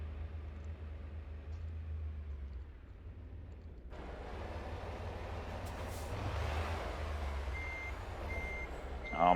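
Reversing alarm of a truck in American Truck Simulator, a steady repeating beep over a low engine rumble, with heavy vehicle noise swelling midway and no talking.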